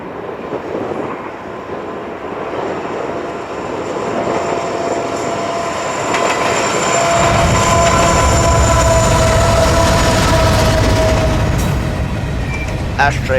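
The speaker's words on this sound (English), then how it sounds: "our first train that we would catch here at Vickiers Crossing would end up being a power move for the Ann Arbor Yard" Freight train at Vickiers Crossing near Toledo, on a power move for the Ann Arbor Yard, rumbling past the crossing with a sustained horn and steady, loud wheel and engine roar that builds in the second half.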